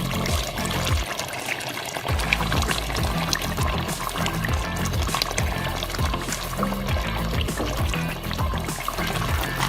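A yogurt and cream mixture pours into chicken Afghani karahi in the pan, a steady liquid pour and sizzle over a constant low rhythmic background beat.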